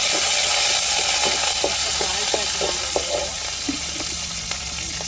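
Beetroot poriyal sizzles in a pan after tempering, a bright continuous frying hiss with scattered soft spatula taps and scrapes, close and steady.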